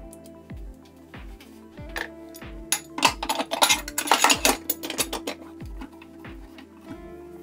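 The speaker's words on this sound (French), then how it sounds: "Maintenant, la cocotte est sur la plaque de cuisson." A metal cooking pot (cocotte) holding corn and water is set onto an electric hot plate, giving a burst of clattering, clanking metal knocks over a steady, regular low thumping rhythm.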